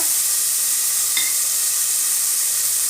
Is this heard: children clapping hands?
no